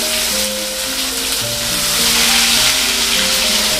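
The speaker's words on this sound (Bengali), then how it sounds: "এই তেলের ভেতরে দিয়ে দিচ্ছি একটা টমেটো কাটা" Chopped tomato hits hot oil tempered with a bay leaf, a dried chilli and cumin, producing a loud, continuous close sizzle with faint steady tones running underneath.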